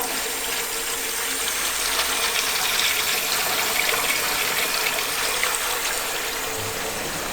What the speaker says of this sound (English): We've just turned the taps on